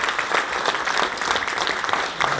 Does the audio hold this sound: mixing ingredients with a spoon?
no